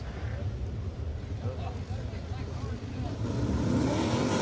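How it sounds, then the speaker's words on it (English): USAC AMSOIL National Sprint Cars at the Terre Haute Action Track roar as their engines build and rise at a race restart. The noise swells louder toward the end beneath an excited commentator. "Brady Bacon punches the throttle."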